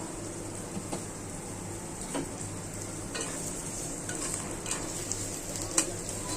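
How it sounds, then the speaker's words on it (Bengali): Sliced onions frying in oil in a karai, a soft steady sizzle with occasional light clicks and scrapes of a spatula against the pan, close and fairly quiet, no voices. "পেঁয়াজ আর কড়াই বসাই দিলাম। এখন দিয়ে দিব তেল। পেঁয়াজটা বেরেস্তা করব"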